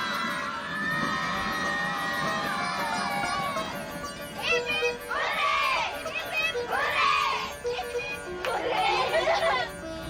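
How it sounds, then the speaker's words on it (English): Uniformed schoolchildren on a train cheer together as it passes through a tunnel: a steady crowd din, then several loud rising group shouts in quick succession over the rumble. "The school kids in their uniforms cheer in unison every time we pass through one of the tunnels."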